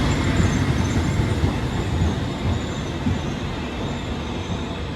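Trenitalia regional train pulling into a platform at Venezia Mestre station, a loud steady rumble of rolling wheels and carriages close by, with faint high wheel squeal above it.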